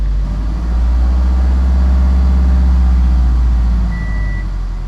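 Subaru engine after a misfire repair, idling then given a light rev with a low steady hum that swells gently and settles back, close and alone.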